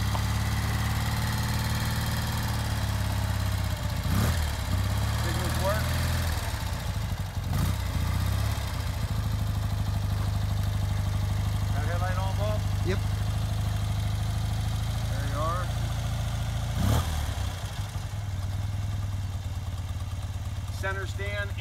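A 1971 BMW R75/5 motorcycle engine idles steadily with a low, even hum close by, while someone talks over it at intervals.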